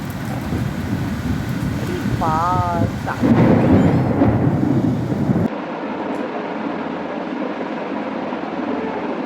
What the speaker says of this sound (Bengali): বৃষ্টি নেমেছে বৃষ্টি নেমেছে বাবারি